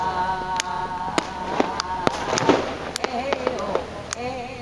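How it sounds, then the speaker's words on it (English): Fireworks bursting low over the water near Toyako Onsen in Japan, a string of sharp separate cracks and pops at uneven intervals, with people talking and a steady ambient hum underneath. "These fireworks are exploding down lower."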